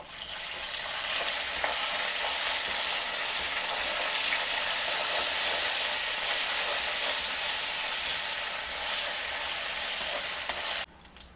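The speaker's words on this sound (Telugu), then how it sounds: "ఇప్పుడు ఒక 1/2 స్పూన్ అల్లం వెల్లుల్లి పేస్ట్ వేసుకుని బాగా కలుపుకుందాం" Ginger garlic paste frying with browned onions in a pan, a loud continuous sizzle with stirring scrapes throughout, ending abruptly.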